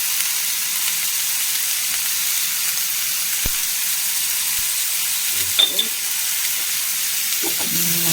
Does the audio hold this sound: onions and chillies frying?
yes